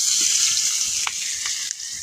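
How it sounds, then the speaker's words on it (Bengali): Fish frying in hot oil in a pan, reddening as it cooks: a steady, continuous close sizzle with faint crackles and occasional small pops, no voices. "এই মাছগুলো লাল লাল করে ভেজে নিব।"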